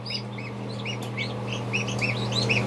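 Repeated high, thin peeps from a just-hatched gosling, a steady run of short chirps over a low constant hum.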